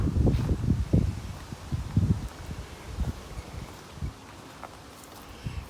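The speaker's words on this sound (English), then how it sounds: "Wow, it's windy out." Strong gusts of wind buffet the microphone outdoors on a blustery day, with rustling and rumbling bursts that are loud at first and then ease into softer gusts, and no talking.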